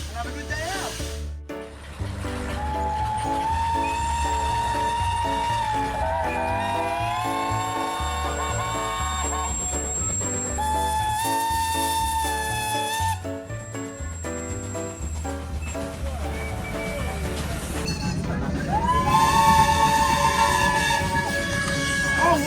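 A heritage train runs on the Bluebell Railway, a steady low rumble with tonal whistle-like notes sounding now and then and a rising surge of noise near the end, with no talk over it.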